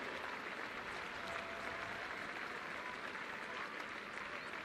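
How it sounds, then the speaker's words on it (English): Applause for halftime mini rugby players from Navan, Wicklow, Mullingar Lions and DLSP Eagles fills a stadium in Donnybrook at the British and Irish Cup Final, a distant, steady crowd clapping that holds without a break. "How about a really big round of applause for all our halftime minis?"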